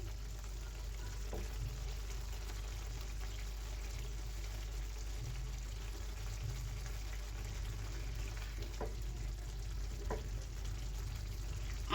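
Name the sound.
gently stirring small fish curry frying in pan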